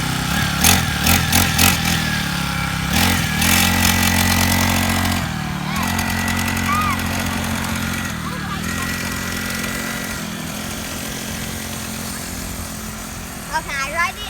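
A dirt bike engine runs steadily at a skatepark, a loud buzzing drone with harmonic bands that dips in pitch once midway, while children's voices and talk sound over it.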